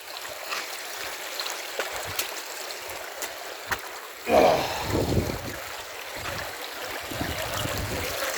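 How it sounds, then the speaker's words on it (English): Steady flowing water from a small waterfall on a fell walk up Fleetwith Pike, constant rushing hiss with a louder splashing surge partway through. "We just have to walk up this little waterfall here."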